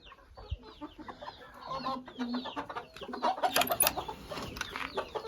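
A rooster and several dwarf Cochin chickens cluck and chatter nearby in a scattered run of short calls that grow busier toward the end, with soft human sounds faint in the background.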